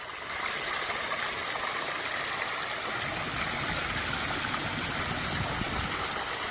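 Water from a hidden waterfall return box spills over rocks beneath a log in a backyard aquascape, a steady broadband rush that stays even and continuous throughout.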